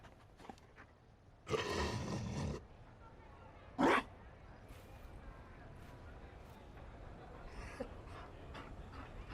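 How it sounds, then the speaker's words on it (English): A Mabari war dog in a video game pants and huffs in two short, close bursts, the first longer and the second brief, over quiet game ambience with distant voices. "found a dog."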